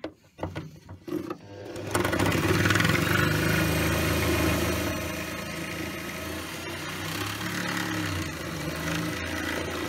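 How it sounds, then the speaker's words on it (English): A small engine on a homemade beer crate racer starts after a few sputtering pulls and settles into a loud, buzzing idle with a steady mechanical rattle, running alone without talk. "Ian, you're freaking destroying the engine."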